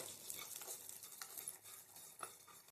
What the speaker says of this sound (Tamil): அதே கடாயில் ஒரே ஒரு புடி சேமியா போட்டு அந்த நெய்யிலே நல்லா வறுத்து எடுத்து வச்சுக்கோங்க